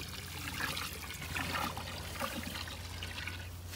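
Water trickling from a garden hose outdoors: a faint, steady dribble and splash that holds throughout, with a low hum underneath and no talking.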